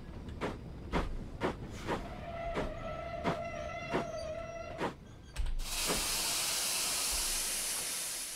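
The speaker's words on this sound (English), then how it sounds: "Opening the cylinder cock drains the steam chest" Loud steam hiss bursts from the opened cylinder cocks of a Worsdell NER 'H' / LNER Y7 tank locomotive in a train simulator, after a run of rhythmic chuffs and a steady whistle tone, then a sustained roaring hiss.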